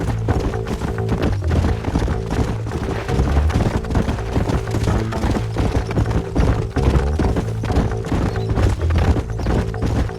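Horses gallop steadily in the Western video game Red Dead Redemption, a loud, continuous patter of hoofbeats with music in the background.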